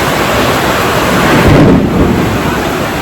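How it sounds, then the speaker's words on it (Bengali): Heavy rain pours down with thunder rumbling at a railway station, a loud dense roar of downpour with a deep swell of thunder midway, no voices. "আর দেখতে পাচ্ছ তো কতটা বৃষ্টি হচ্ছে।"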